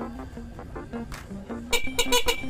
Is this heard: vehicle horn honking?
yes